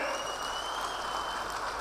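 A crowd at a Gruha Lakshmi scheme public meeting in Bidadi claps, a steady wash of applause heard faintly from a distance with no gaps across the short stretch.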